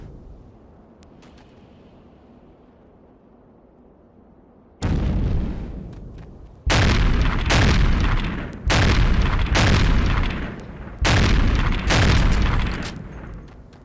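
Four heavy grenade blasts in the Delta Force: Task Force Dagger video game, each a loud booming burst with a rolling tail, arriving in quick succession after a quiet stretch of low background rumble.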